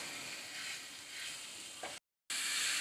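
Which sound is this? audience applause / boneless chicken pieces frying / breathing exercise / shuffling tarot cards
boneless chicken pieces frying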